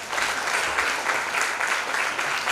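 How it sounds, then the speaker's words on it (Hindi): An audience at a writers' festival applauds to welcome a poet and theatre artist onto the stage, a dense and steady wash of many hands clapping, close and loud throughout. "जोरदार तालियों से इनका स्वागत करें।"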